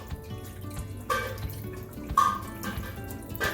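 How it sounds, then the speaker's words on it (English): Rice is rinsed in water and drained in a kitchen: gentle sloshing and dripping water with a couple of louder splashes as the water pours off, and no talking. "So you just rub it, wash it real quick, and then drain the water."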